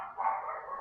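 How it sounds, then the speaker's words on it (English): A single short dog bark, a brief muffled woof lasting under a second, heard alone at moderate distance. "And then the dog is barking."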